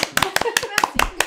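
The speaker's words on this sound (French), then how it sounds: "On peut l'applaudir. On applaudit." A few people clap in short, separate bursts at an applause cue, with spoken voices, including a child's, between the claps.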